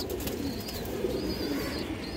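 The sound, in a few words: pigeons cooing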